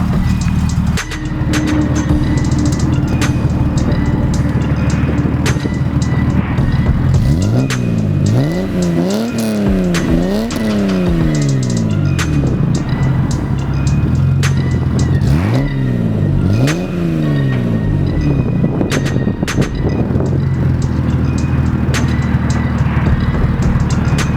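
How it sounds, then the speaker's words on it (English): A BMW E30 engine with a fault that makes it want to stall is revved up from idle several times, each rev rising and falling in loud close bursts over a steady rough idle. "when you rev it up sometimes it acts like it wants to die, so I'm going to go ahead and try that"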